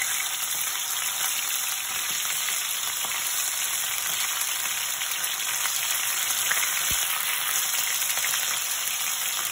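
Beef for Chinese chilli beef frying in hot oil, a dense, steady, loud sizzle that holds evenly throughout with a single brief pop near the end.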